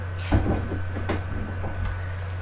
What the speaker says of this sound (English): I should lock that door.